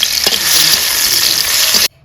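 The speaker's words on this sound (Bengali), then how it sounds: "এখন আমি আলাদা করে টমেটোটাও ভেজে নিব।" Tomatoes fry in mustard oil in a wok with a steady, loud hiss and sizzle that fills the clip, then cuts off abruptly near the end.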